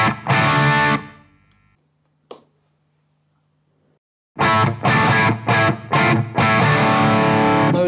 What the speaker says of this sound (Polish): Zobaczmy, jak to w ogóle funkcjonuje w przesterowanej barwie.